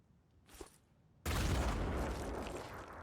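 A grenade in the Phoenix Point video game goes off as one sudden loud blast, followed by a sustained roaring rumble and crackle that slowly tapers, preceded by a faint brief whoosh.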